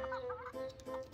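Young chickens of a breed with five toes on each foot cluck and cheep close by, several short tonal calls in quick succession.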